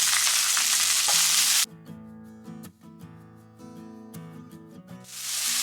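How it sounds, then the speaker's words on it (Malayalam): Onion and curry leaves with salt frying in a pan for cabbage thoran give a loud hissing sizzle, then the sound drops to scattered spatters and stirring over music, before the sizzle swells again. "സവാള ചേർക്കാം. അതിൻ്റെ കൂടെ തന്നെ കറിവേപ്പിലയും ചേർക്കാണ്. ഉപ്പും കൂടെ ചേർത്ത് വഴറ്റിയെടുക്കാം."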